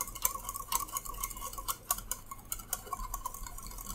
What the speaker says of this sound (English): I need to whisk a little bit longer.